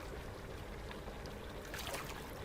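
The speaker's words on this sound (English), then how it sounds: "We're gonna rinse them in the cold water." Gun parts are rinsed in cold water in the Gunsmith Simulator video game, producing an even, continuous watery trickling and sloshing at moderate level.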